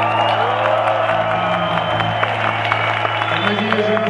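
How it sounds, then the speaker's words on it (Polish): Concert crowd in an exhibition hall applauds a Polish rock band between songs, steady loud clapping and cheering over a sustained amplified stage hum. "Bardzo dziękuję za te gromkie brawa."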